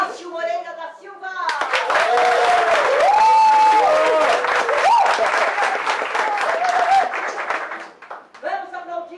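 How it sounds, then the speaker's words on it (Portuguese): An audience at a legislation and ethics lecture claps for an honoured participant, dense sustained applause with a few whoops, framed by a speaker's voice at the start and end. "Vamos aplaudir Márcio Moreira da Silva!"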